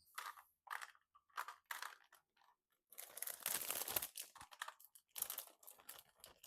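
Plastic packaging crinkles and crackles in quiet, close bursts as it is handled, irregular rustles with short gaps between them.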